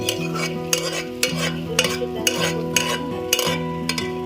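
Gongura dal stirred in a pot as the Andhra-style tempering goes in, with steady scraping and clinking of a spoon against the pan over a faint sizzle, repeated strokes close by and no talking.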